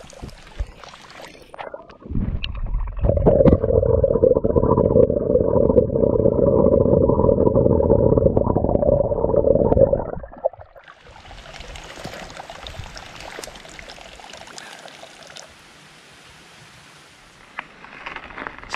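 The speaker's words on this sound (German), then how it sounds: "Da werde ich hier mal mein Wasser auffüllen." Water running from a mountain tap into a bottle, a steady rushing stream lasting about eight seconds, loud and close, then cutting off to quieter outdoor ambience.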